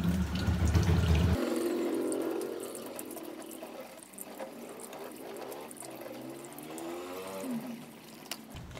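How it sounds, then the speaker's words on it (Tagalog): Tap water runs steadily for several seconds as a face is rinsed after applying peeling lotion, a continuous close splashing and trickling with no talk over it. "Banlaw na tayo."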